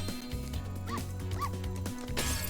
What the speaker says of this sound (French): Oui, le retour du chien!